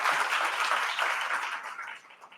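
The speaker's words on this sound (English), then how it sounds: "Give them a big round of applause." Audience applause at a port outlook summit hosted by a harbor commission, steady broadband clapping that starts full and gradually thins out over a couple of seconds.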